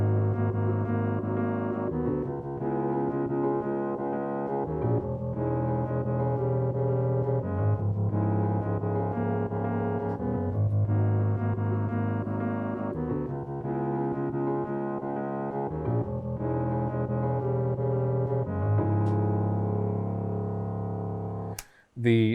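Virtual piano plays a rhythmic, stepping, grooving chord pattern in a track, with repeated chord stabs pulsing steadily under ducking sidechain compression throughout, loud and full, ending in a sharp cutoff; no talking.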